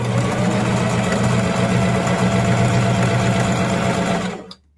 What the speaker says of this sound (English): you can continuously sew these strips without taking them off of the machine